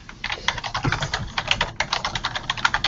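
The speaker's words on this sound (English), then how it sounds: "Daniel, are you typing?" Steady, rapid typing on a computer keyboard during a live stream, close and continuous with uneven bursts of key clicks.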